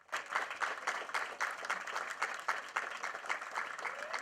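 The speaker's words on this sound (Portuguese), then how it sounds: "E os aplausos foram a forma encontrada para homenagear os amigos de infância." Mourners at the funeral of two young childhood friends clap together in tribute, a scattered, uneven applause with distinct individual claps rising and falling, faint and somewhat distant, with no speech over it.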